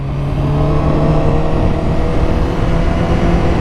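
A Honda superbike engine gives a steady, loud drone with a low, uneven throb, misfiring at low revs with a slightly stumbling rhythm throughout.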